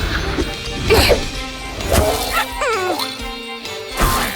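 A cartoon dog barks amid crashing and whacking impacts in an animated animals-and-trucks show, with a couple of loud hits and yips over busy music.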